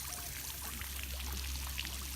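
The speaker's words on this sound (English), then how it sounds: "We threw a fountain in to aerate the water" A small fountain aerating a backyard koi pond with lily pads splashes steadily, a continuous soft trickle and spatter heard at moderate distance throughout.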